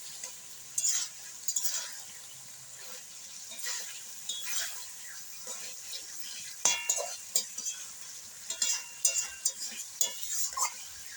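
Pork being stir-fried in an uncovered pan for a kosha curry, a soft, continuous sizzle broken by frequent scraping and clinking strokes of a spoon against the metal.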